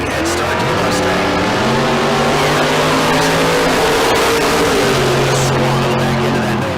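Drag strip race at Tucson Dragway with a 502-cubic-inch 1969 Nova chasing a Mustang: loud, continuous engine roar with rising and falling pitch, and an announcer talking over it throughout.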